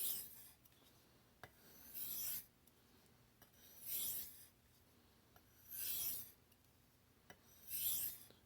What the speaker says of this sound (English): I don't really need to be pressing into the stone, just letting the stone do the work